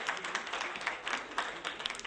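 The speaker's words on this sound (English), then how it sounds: "Let's give a big round of applause to our ladies and gentlemen" A live audience at an innovation games workshop breaks into steady applause, a dense, continuous patter of many hands clapping at close range throughout, with no talking over it.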